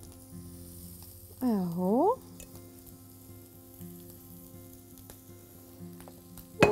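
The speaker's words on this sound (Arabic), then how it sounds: "انزل بقى بالدريسنج بتاعي واسيب شويه الايه لحد ما يتشوي معايا الكاليماري بتاعي" Dressing poured onto calamari grilling in a hot pan, producing a steady close sizzle with a brief louder burst of pouring; someone says a single word.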